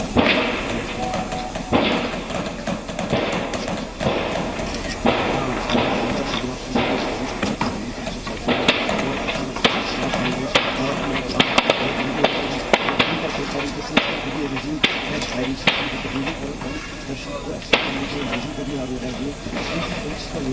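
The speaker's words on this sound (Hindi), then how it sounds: "ये गोलियों की आवाज सुनिए, गोलियों की तड़तड़ाहट आप सुनिए।" Rapid bursts of gunfire crackle repeatedly in the distance over a steady hiss, with a reporter talking throughout.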